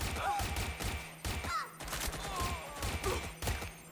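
Rapid gunfire in the video game Watch Dogs Legion, with dense bursts of shots clustered close together against chaotic background noise, loud and continuous throughout.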